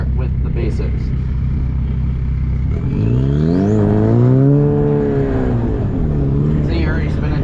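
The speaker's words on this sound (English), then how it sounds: "See, you're already spinning tires." A Ford Fusion pulls onto a track and spins its tires, the engine note rising in sweeping revs close by as people talk over it.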